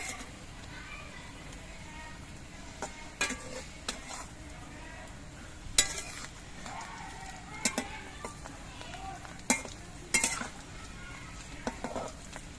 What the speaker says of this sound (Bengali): এবার এই পিঠটাও ভেজে নিতে হবে